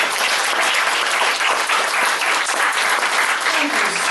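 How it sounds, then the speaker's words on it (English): An audience gives a speaker a loud, steady round of applause, thick continuous clapping from a large crowd close by. "Please give her a round of applause."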